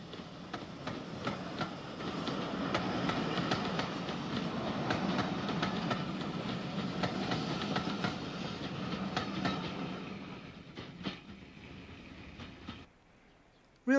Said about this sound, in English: B2 class 460 number 407 approaches Amiens Street with the 1:15 departure from Cork